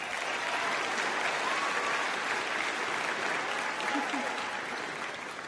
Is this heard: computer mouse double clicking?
no